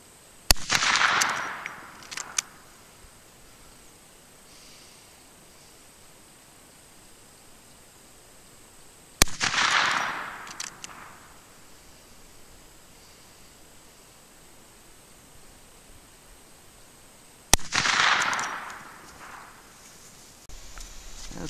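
Three rifle shots with hand-loaded deer hunting cartridges, fired at a 100-yard target, each a sharp loud crack followed by a rolling outdoor echo, spaced about eight seconds apart with quiet in between.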